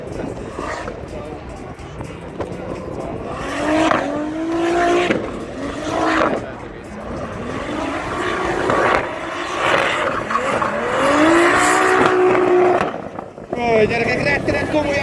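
Japanese-built race car running a qualifying lap on a track at night, engine roaring and rising through gears with repeated surges and shifts, loud and fairly close, with people talking over it.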